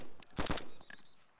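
Two quick gunshots ring out in an open-world survival game, a sharp close pair followed by a fainter third shot, each trailing into a short echo.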